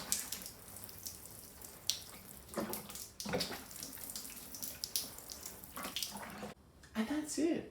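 Water splashes and trickles onto an aloe vera bonsai planting set among stones, faint and uneven with scattered bursts, as a voice speaks briefly.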